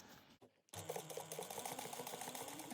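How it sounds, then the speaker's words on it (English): A sewing machine stitches a bag's exterior fabric at a 1/8 inch seam allowance, a steady close mechanical whir with rapid rhythmic needle ticking that starts after a brief quiet gap and runs on evenly. "you're going to first sew this on at 1/8 of an inch seam allowance"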